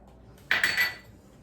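A spoon scrapes and clinks against a bowl while mixing dried basil, chili powder and salt, a brief bright rattle of about half a second in a quiet kitchen.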